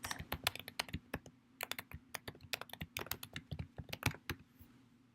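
Rapid, uneven typing on a computer keyboard, with steady clicking keystrokes close up and in short bursts for about five seconds and no talking.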